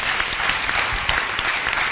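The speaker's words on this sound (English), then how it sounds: "Ladies and gentlemen, a huge, huge round of applause for David." A live audience at a talk gives speaker David a warm round of applause, dense steady clapping from a full room that continues throughout.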